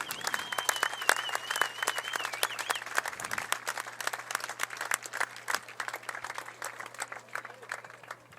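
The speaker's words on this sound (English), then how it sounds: "Please give a round of applause for Braden and his family." Crowd at a high school football game applauds a honored player and his family, scattered clapping building across the stands with a steady hum and a faint tone in the background.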